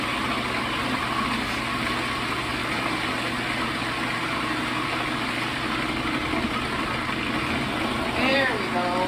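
A kitchen blender whizzes bananas and chocolate chips for cookie dough, producing a continuous loud motor whir with a fluctuating, churning texture that holds steady throughout, with a brief squeaky rise near the end.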